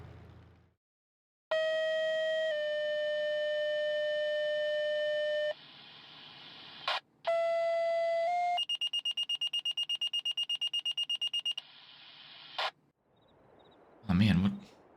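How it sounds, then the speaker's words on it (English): A fire call alarm in the video game Farming Simulator 22 sounds as a series of loud sustained electronic tones, changing pitch and then pulsing rapidly, ending with a brief burst of noise. "It sounds like we got our first fire call."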